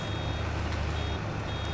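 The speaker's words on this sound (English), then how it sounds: "So when it beeps, it's not taking on any more" Baler in Farming Simulator 22 sounding its full warning: a steady repeating electronic beep pattern over a constant low machinery drone, loud and close, with no talking.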